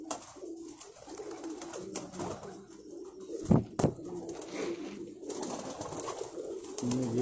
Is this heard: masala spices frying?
no